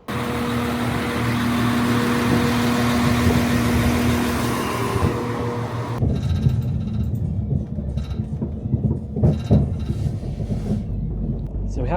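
A Transport for Wales passenger train pulls out of Crewe station, giving a steady rumbling hum of engine and wheels inside the carriage that thins out after about six seconds into quieter clatter and rattles.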